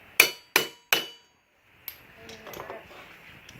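Three sharp, ringing hammer blows on a Jeep Cherokee U-joint, evenly spaced and close, followed by quieter clinks and shuffling of metal tools.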